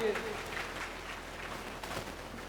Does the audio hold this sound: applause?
yes